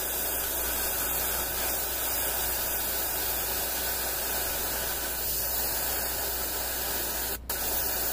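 Airbrush spraying red ink onto the outside of a miniature's base while painting a Space Marine Captain, a steady close hiss of airflow held throughout, briefly cutting out near the end.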